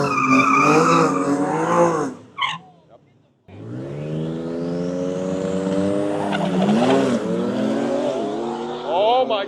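Dodge Challenger and Dodge Magnum wagon drag racing down the strip at Roadkill Nights, with loud revving engine harmonics rising in pitch, a brief drop-out, then a long roaring acceleration with gear changes, and a crowd voice heard over it.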